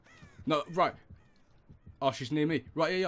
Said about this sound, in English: there's a crow there